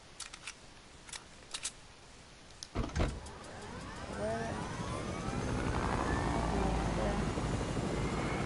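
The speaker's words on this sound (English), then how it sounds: "Thank you, helicopter." Helicopter in the video game Fortnite: a few sharp clicks, then the helicopter's whirring rotor swells in and holds steady, fairly loud and close, with no talking.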